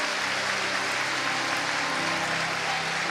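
A church congregation claps in steady, dense applause that fills the room at an even level from start to finish, with no voices rising above it.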